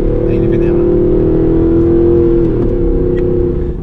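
Loud, close exhaust note of a 2019 Aston Martin Vantage AMR with manual gearbox, a sustained deep revving drone that eases slightly near the end, with brief speech over it.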